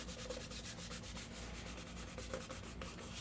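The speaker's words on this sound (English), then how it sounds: "I'm gonna rub it right here." Close, rhythmic rubbing as a vinyl decal is pressed onto a Starbucks tumbler, with repeated strokes scraping steadily back and forth.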